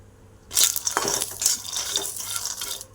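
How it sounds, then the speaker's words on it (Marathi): Peanuts dry-roasting in a pan for a chilli-peanut chutney, rattling and scraping as they are stirred, starting abruptly and continuing in close, uneven bursts with no talk. "हे बघा मी शेंगदाणे भाजण्यासाठी टाकलेले आहेत त्यांना छान असं भाजून घ्यायचं आहे"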